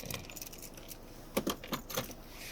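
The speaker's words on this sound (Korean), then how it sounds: "차키는 이제 이런 식으로" A set of BMW car keys jangles close by, with a few bright metallic clinks in quick clusters over faint room noise.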